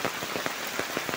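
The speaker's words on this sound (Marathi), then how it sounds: "खूप पाऊस कोकणात सध्या चालू आहे" Heavy monsoon rain in the Konkan countryside near rice paddies and a road, a steady rushing wash broken by brief bursts of louder drops and splashes, with no voices.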